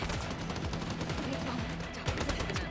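Rapid gunfire in the shooter game Strinova, a dense continuous burst of shots running loud and unbroken from start to finish.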